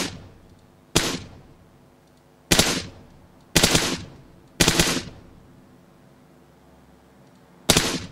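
PUBG game gunfire rings out as five or six sharp, loud single shots spaced about a second apart, each with a decaying echo, and no talk over them.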